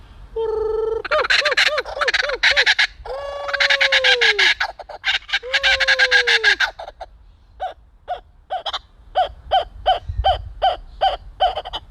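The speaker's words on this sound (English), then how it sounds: "this is Foster, our laughing kookaburra. We'll have his little grand finale for you right now with this call." A laughing kookaburra at a zoo calls loudly and up close, a rising run of harsh, hooting cackles that ends in a rapid, rhythmic series of repeated laughing notes.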